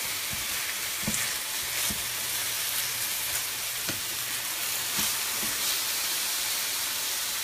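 Chicken and tomatoes sizzle steadily in a hot pan, a continuous bright frying hiss broken by several soft knocks and scrapes as the pieces are tossed and flipped.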